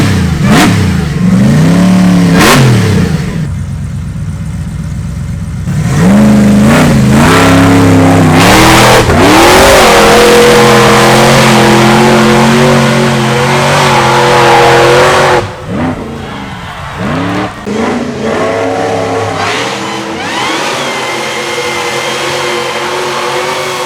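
Rock bouncer with bolted rear tires roaring up a steep hill at a hill climb event, its engine revving hard in loud rising and falling surges throughout, with no talk.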